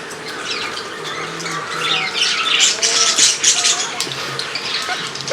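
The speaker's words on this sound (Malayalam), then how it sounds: "പിന്നെ നമ്മളെ ലവ് ബേർഡ്സ് അവരും കൂട്ടിൽ കയറാൻ തുടങ്ങി" Pet birds, including lovebirds, in an aviary squawk and chirp continuously at close range, shrill calls rising and falling while a person talks over them.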